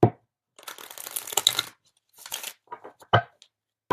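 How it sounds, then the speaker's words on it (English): Close-up tarot card shuffling: a long papery riffle followed by a few shorter flicks and taps, with brief silences between. "Let's do two more shuffles."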